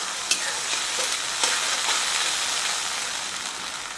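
Veg manchurian being stirred in a pan after a spoonful of soy sauce goes in: a steady close-up sizzle of frying with scattered clicks and scrapes from the spoon, no voices.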